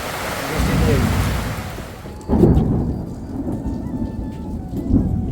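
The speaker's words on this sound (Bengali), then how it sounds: "তারপর আধ ঘন্টার মতন বৃষ্টি আসছিল আবার বৃষ্টি আইতেছে অন্ধকার" Steady heavy rain hisses throughout at night while a deep roll of thunder rumbles in partway through, with softer rumbles following.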